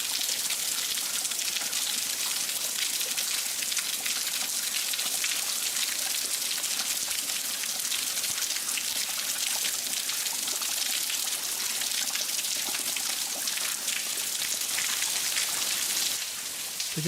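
A small waterfall near a cave on a hike pours and splashes continuously, a dense loud hiss of falling water close by with no talking throughout.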